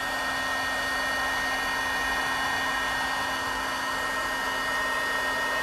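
A heat tool blows a steady, even whir as it melts embossing powder on a stamped card background, holding a constant close drone with a faint high tone and no pauses.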